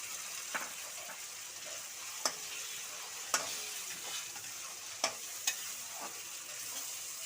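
Onion paste frying in a pan for Bengali chicken kosha: a steady, hissing sizzle runs throughout, broken by occasional soft clinks and scrapes of stirring, close and fairly quiet.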